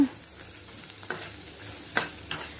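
Chillies frying and being stirred in a pan for a tomato curry, a steady soft sizzle broken by several sharp scraping stirs, close up with no talk.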